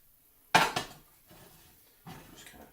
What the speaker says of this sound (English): you take the cabbage, you dump it right in here. Napa cabbage, by the way.